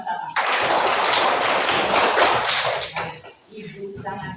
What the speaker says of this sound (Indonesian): Tepuk tangan bersama-sama